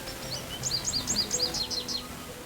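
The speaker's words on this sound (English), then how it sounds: "American goldfinch." An American goldfinch call plays in the 2002 Nancy Drew game Ghost Dogs of Moon Lake, a quick run of bright, high chirping notes repeated about a dozen times over a faint steady hum.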